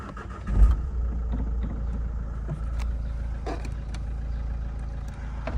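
A cold 2013 Renault Clio 4 1.5 dCi (K9K) diesel engine turns over and starts with a short burst, then idles steadily with a low, even rumble nearby.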